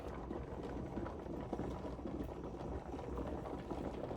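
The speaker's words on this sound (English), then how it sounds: "a steady flow of steam is coming out of that vent pipe and some water" A steady, continuous hiss of steam venting from a pressure canner's vent pipe while canning green beans, with faint bubbling and rattling underneath, holding an even level throughout.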